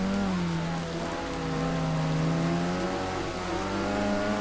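Rain falling in a Street Breed racing game, a steady hiss spread over a droning, rising and falling car engine tone, with no voices.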